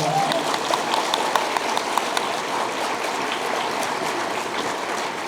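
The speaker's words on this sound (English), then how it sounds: "Let's give him another round of applause." Keynote audience at a racial equity summit claps in a sustained round of applause, a thick, even patter of many hands that fills the room and continues steadily without letting up.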